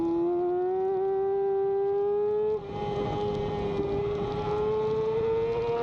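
A Yamaha R6 race motorcycle with 15:43 gearing brakes hard in second gear into turn one at a club road race on the HPR West Course. Its loud, close, high-pitched engine whine dips abruptly midway, then climbs steadily again.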